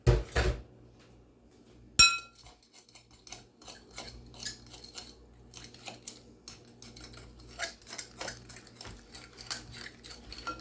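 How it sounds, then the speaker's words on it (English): Egg and milk being whisked in a bowl, a run of rapid close clinking and tapping strokes against the bowl that builds after a brief pause near the start. "We're going to whisk it."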